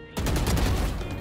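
A dense, loud burst of rapid gunfire in a video game shooter that starts abruptly and runs continuously for about a second.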